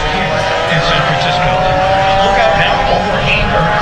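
A United Airlines Boeing 777 makes a low, descending pass over show center at 500 feet and 190 knots during the Fleet Week 2021 air show in San Francisco, a loud continuous jet roar filling the whole clip with crowd noise beneath.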